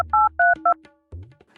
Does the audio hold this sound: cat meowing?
no